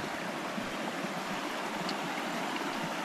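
Water in a gorge stream flows at a remote campsite, giving a continuous soft rushing wash, even and moderately distant, with no voices.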